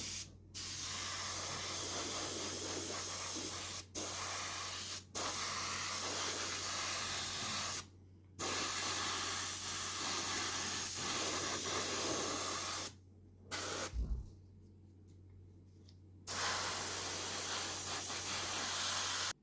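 Vallejo gloss varnish hisses from an airbrush onto a miniature Atreides Ornithopter in repeated spray bursts, close and steady, separated by brief silent pauses.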